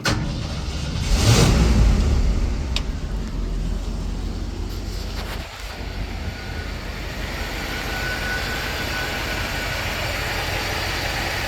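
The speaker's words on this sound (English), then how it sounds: "Really smooth. Runs good. Very strong for an FE engine." A 1965 Ford F100 pickup's FE V8 engine idles steadily and smoothly at close range, a low continuous rumble with a brief louder burst near the start, no exhaust leak, no talking.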